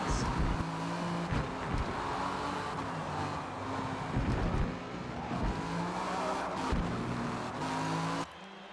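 A BMW race car in a Le Mans racing game, engine roaring and revving through the Ford chicanes with shifting pitch and brief tire squeals, loud and close, cutting off abruptly at the end.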